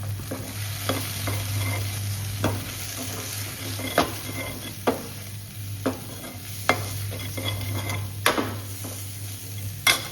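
Spices roasting with potatoes and capsicum in a pan, a soft steady sizzle over a low hum, broken by regular scraping clinks of a spoon stirring against the metal pan, with no voices.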